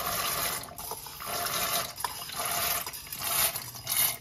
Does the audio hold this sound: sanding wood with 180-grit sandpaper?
no